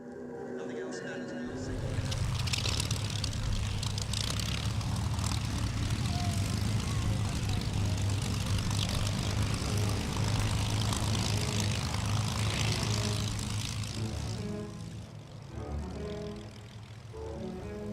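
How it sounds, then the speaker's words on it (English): A Spitfire propeller fighter passes at a military air display, its engine drone building quickly and holding as a loud, sustained roar before fading near the end. "A classic icon of an earlier war was the Spitfire."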